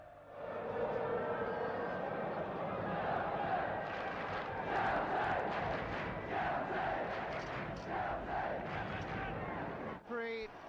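Crowd of 50,000 at a 1969 First Division football match between Chelsea and Everton, a broad continuous roar and murmur from the stands, fairly distant and even throughout.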